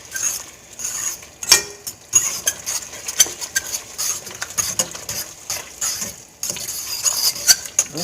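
A fork stirs tomato sauce in a pot, giving close, irregular scraping and soft clinks against the metal over a quiet sizzle, with sharper taps here and there and no talk.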